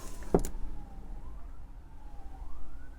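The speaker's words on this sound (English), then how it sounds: "There's quite a few sirens and ambulances or something going on" Emergency vehicle sirens wailing outside, a faint, distant rising and falling tone over a low background murmur, following a brief sharp bump.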